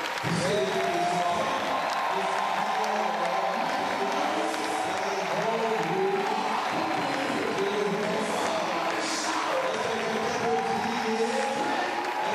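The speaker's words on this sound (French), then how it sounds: "let the congregation clap" A church congregation claps steadily and loudly for a long stretch, with cheering voices and a speaker talking over the applause.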